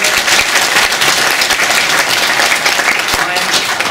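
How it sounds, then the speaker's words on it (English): An audience bursts into steady, loud applause after a talk on astronomy, a continuous dense clapping that fills the whole moment with no voices over it. "we thank you, we applaud you very much."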